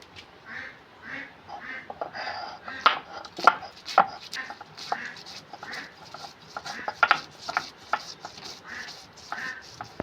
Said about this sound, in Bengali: কাঁচা লঙ্কার কাঁচা ছোলা আমি বেটে নেব এই শিলবাটাতে